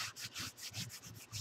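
Firm hand rubbing of glued paper on a craft project, a steady back-and-forth scuffing in quick regular strokes, close and fairly quiet with no talk.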